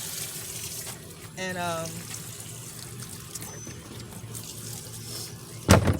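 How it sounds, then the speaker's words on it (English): Fresh tap water runs into a pan and splashes as it is rinsed out in a kitchen sink, an uneven trickling stream with a brief gurgle and a louder clatter near the end. "Cabbage with some fresh water here, rinsing out the pan here."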